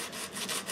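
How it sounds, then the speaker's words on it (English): A classical guitar saddle is sanded on a block with a 20-foot radius, making a brief, close, rhythmic scratchy rubbing of quick back-and-forth strokes. "by sanding it on this block, and then I'll know that the saddle radius matches the fretboard radius."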